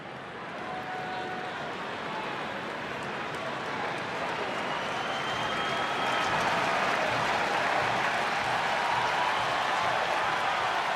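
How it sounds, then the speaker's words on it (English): Crowd at a Chicago Cubs baseball game against the Athletics, a broad roar of cheering that steadily builds in loudness over several seconds, with a commentator's voice faintly underneath. "Here comes the crowd."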